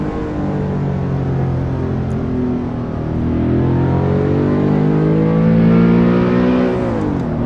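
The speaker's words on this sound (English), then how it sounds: "I am driving a car without the traction control on" A car engine roars continuously in Assetto Corsa, driven with traction control off, its loud revs climbing and falling through gear changes with a steady, close mechanical drone.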